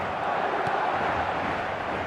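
A large stadium crowd in the football game eFootball 2026 keeps up a dense, steady roar throughout, loud and unbroken.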